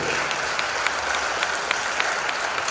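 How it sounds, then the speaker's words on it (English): Sustained applause in the Naparima Auditorium for Senator Sean Sobers at a youth event, a steady wash of many hands clapping with a few sharper individual claps standing out. "We give him a tremendous round of applause."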